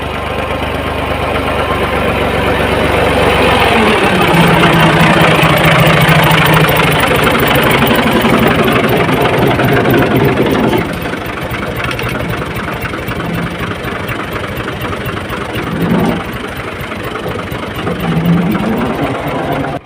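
A tractor engine drones steadily while ploughing a field in a village in Pakistan, loud and continuous throughout, its pitch and load shifting partway through with a few brief surges.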